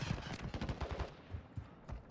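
Rapid bursts of automatic gunfire in Modern Warfare 2 DMZ, loud and close, crackling in quick volleys for the whole stretch.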